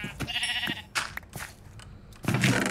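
Sheep bleat in the Minecraft video game: several short, close bleats spread across the moment, with game noises between them and a louder burst of sound at the end.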